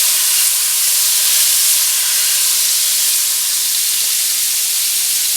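Butter sizzles in a hot frying pan, a steady, loud broadband hiss that holds unbroken and even for several seconds, with no voices.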